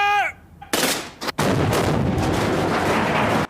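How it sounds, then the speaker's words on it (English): Rifle grenades and gunfire from a three-man squad firing at a Dalek in Doctor Who's Remembrance of the Daleks burst out as loud, close blasts, with one short shout before a sustained roaring barrage. "3 men, rifle grenades, even spread left, right, and center. Fire on my command."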